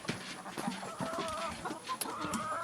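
Several chickens clucking close by, overlapping short clucks and squawks in an irregular rhythm with a faint background hum.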